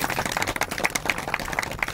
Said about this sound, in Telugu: అందరు గట్టిగా చప్పట్లు కొట్టచ్చు మీరు ఈ పనికి.